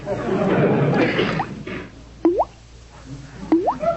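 Two sharp, hollow water drips from a dripping faucet land a second or so apart, each with a quick rising plink, following a stretch of soft muffled rustling noise.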